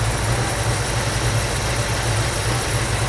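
A Ford Mustang Mach 1 engine idles loudly and close, with a low continuous rumble that wavers slightly as the RPM hunts unevenly, with no talking over it.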